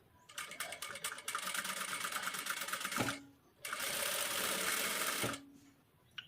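A sewing machine stitches the back of a blouse onto lining cloth in two steady, loud whirring runs with a brief pause between them, close and without talk.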